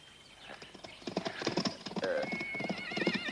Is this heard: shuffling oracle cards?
no